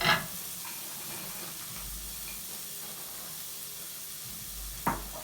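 Shallots and garlic fry in a pan with a steady, even sizzle and hiss. A couple of brief clinks break through at the start and near the end, and no one speaks.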